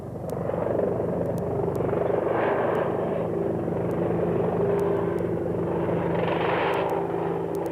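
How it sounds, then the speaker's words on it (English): Naval helicopter hovering over a ship's deck, a steady, continuous rotor and engine drone with low rumble that stays even throughout, moderately loud and without speech. "the helicopter lowers a cable from its belly to the deck crew"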